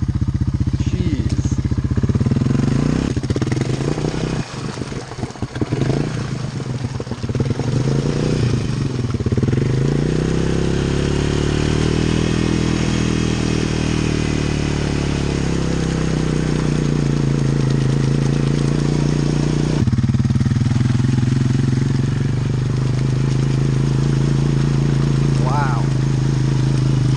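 Honda 300 ATV on axle paddle tires and Zilla tires, engine revving and droning loudly with rising and falling throttle, clattering and splashing bursts, while people talk throughout.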